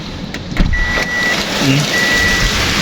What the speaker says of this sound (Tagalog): Ang lakas pa ng ulan dito oh.